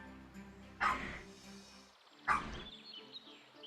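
Two separate dog barks from the video game Fire Emblem Warriors, moderately loud and spaced about a second and a half apart over quiet game ambience.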